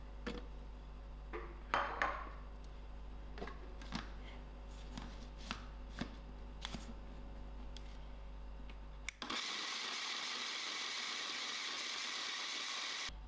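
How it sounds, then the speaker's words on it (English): Scattered clinks and light kitchen knocks, then a blender grinding coconut for chutney kicks in abruptly and roars loud and steady for the last few seconds. "Here I have my blender, and I'm ready to grind my coconut"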